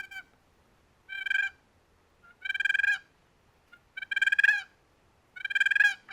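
Four rolling, raspy purrs from a chalked turkey box call, its lid dragged across it, each about half a second, spaced out with silence between them.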